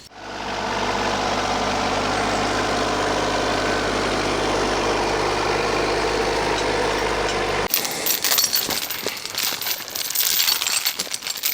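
A compact tractor engine idles with a steady, close mechanical drone, then gives way to sharper, irregular knocking and clatter near the end.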